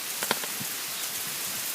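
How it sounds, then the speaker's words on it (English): Hail falling in Whitby, a steady dense hiss of small impacts with a few sharper taps early on, close and fairly even throughout, with no voices. "All this white stuff is hail."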